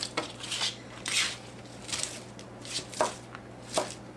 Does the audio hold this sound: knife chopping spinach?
yes